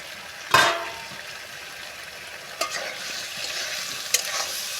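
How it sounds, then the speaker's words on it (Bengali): Chickpeas boil in a covered pot, giving a steady bubbling hiss broken by a few sharp metallic clanks, likely the lid. "ছোলাটা সিদ্ধ করে নেব"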